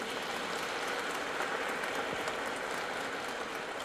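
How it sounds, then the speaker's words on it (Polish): Fairly faint applause from a congregation at a Christmas carol concert in a church in Tarnowiec, Poland: a steady, dense patter of many hands that continues at an even level without a break. "Wielkie brawa."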